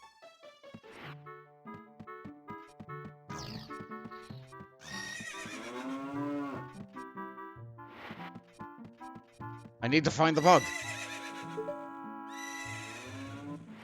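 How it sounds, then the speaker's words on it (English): Several horses neigh and whinny in a Zelda: Ocarina of Time game scene, repeated loud calls with clip-clop hooves, while a person speaks briefly over them. "There sure are a lot of horses."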